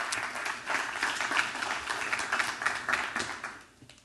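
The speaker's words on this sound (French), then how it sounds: "je vais vous demander d'applaudir Florence Cultier" A conference audience at a fitness congress claps for a speaker coming onto the stage, a dense round of applause that carries on steadily and fades out near the end.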